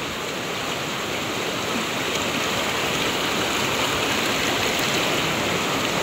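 Steady rushing of a creek's flowing water, full and continuous throughout with no voices, close and fairly loud.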